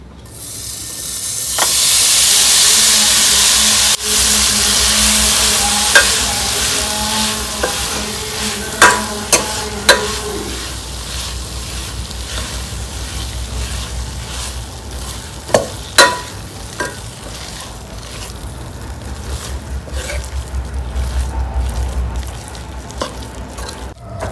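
Khoa frying in leftover ghee for carrot malai barfi, a loud sizzling hiss that gradually settles while a spoon scrapes and stirs the pan with scattered clinks and taps, close and steady, no talking.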